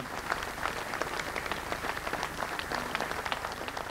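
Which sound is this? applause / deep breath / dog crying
applause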